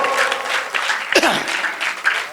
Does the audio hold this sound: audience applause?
yes